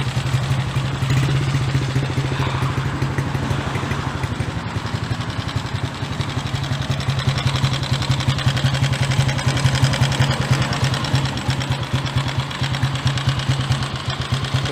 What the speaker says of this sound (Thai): เครื่องเดี๋ยวให้ช่างเช็คก่อนน่าจะเป็นวาล์วดัง